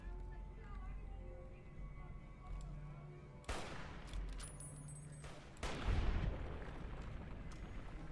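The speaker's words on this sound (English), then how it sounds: "Yeah, a light machine gun." Fallout New Vegas light machine gun fire arrives in two loud bursts of rattling shots over a steady background hum of game ambience, with a heavier impact near the end.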